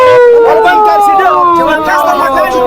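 A loud, close ambulance siren wailing with gliding, falling tones at an Islamabad–Peshawar toll plaza during a protest, sounding continuously with no clear voices over it.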